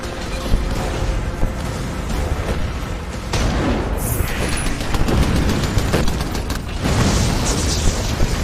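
Heavy artillery cannon blasts and mechanical clanking from the mech combat game Iron Brigade, a dense, loud barrage of booms running continuously with no pauses.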